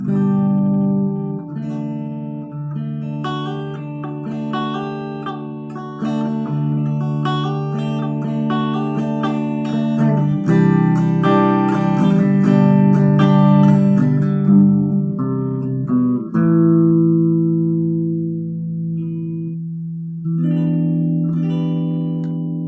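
A clean electric guitar with Alnico pickups on the middle pickup plays chords and single-note lines, ringing clearly with sustained notes and no distortion.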